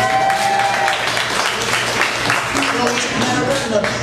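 A comedy club audience applauds during a stand-up set, a dense, steady round of clapping that fills the room with voices mixed in.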